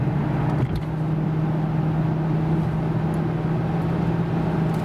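An Infiniti M45 cruising on the road, a steady, even engine and road drone with a low hum, close and unchanging, with no talk.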